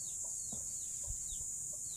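Hens in a coop give a few soft, scattered clucks, faint and a little distant, over a steady high-pitched background hiss.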